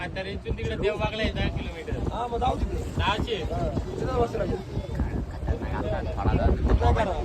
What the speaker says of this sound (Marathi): चलो आता गाईज आता बोट चालू झाले